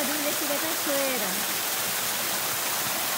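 Steady rushing roar of a waterfall at the start of a mountain trail in Japan, continuous broadband hiss at constant loudness, with a voice speaking briefly over it at the start.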